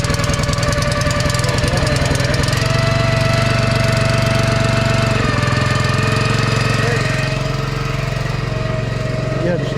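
A truck rig's engine runs loud and close after cleaning and aluminum brightening, a steady heavy drone with a knocking rumble that holds unbroken from start to finish.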